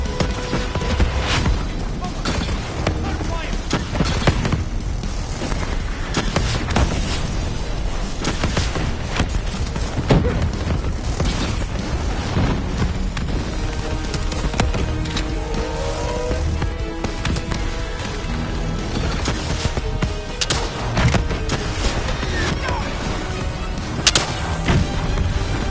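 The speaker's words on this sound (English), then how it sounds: "Javelin missiles incoming!" Javelin missile strikes in Call of Duty: Black Ops III, heavy booms and crashing impacts over a constant roaring battle din with scattered gunfire, lasting throughout with occasional voices in the mix.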